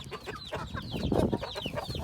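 Chickens, chicks and a rooster being fed egg yolk and white make busy overlapping clucks and chirps nearby, with faint background noise and no clear talk.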